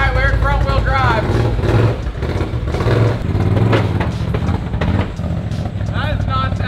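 A Can-Am Renegade 1000 ATV being worked on, its engine revving in loud rising and falling surges close by, while someone talks over it throughout.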